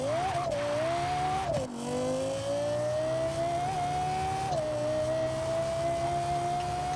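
A Lexus LFA accelerates hard in the racing game Forza Horizon 4, its engine note climbing steadily with brief dips at each gear change, loud and continuous with no voices.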